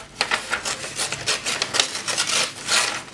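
A normal sheet of paper is torn crosswise in quick, repeated rasping rips, close and crisp, forming a busy run of short scratchy bursts with no talking.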